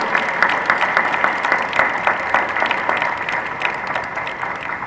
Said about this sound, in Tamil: இந்த கைத்தட்டு பத்தாது